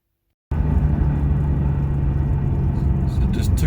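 A Toyota Supra drives with a steady, close engine rumble and road noise. The sound starts abruptly after a brief silence and holds at an even level, with no talking.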